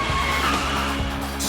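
A supercar skids under hard braking on a test track, tires squealing in one steady, loud smear with the engine roaring underneath.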